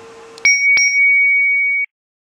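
Small bell struck twice in quick succession to start an eating competition, two bright close dings, the second ringing on clearly for about a second before stopping abruptly.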